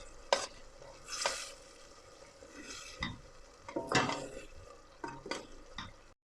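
A spoon stirs chickpea masala with paprika in a pan, producing intermittent scraping clatters and soft sizzling, several distinct strokes against the metal at an uneven pace, close and fairly quiet, with no talk.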